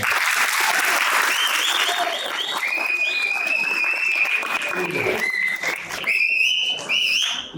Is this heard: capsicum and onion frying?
no